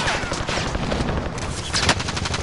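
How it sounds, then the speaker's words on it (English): Loud, dense video-game gunfire rattles without a break, with rapid overlapping shots forming a continuous automatic barrage close up. "Yo, they're shooting alone."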